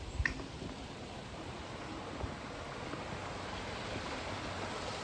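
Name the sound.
noisy water at Discovery Bay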